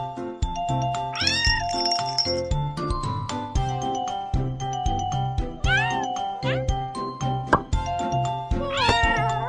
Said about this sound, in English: Yeah, the kitten has come out.